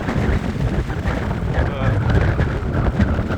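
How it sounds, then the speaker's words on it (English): Strong wind buffets the microphone while cycling on a wet, grim day, a constant loud low roar with gusty rumbling throughout and a voice talking faintly underneath. "I don't know if you can even hear me in this wind"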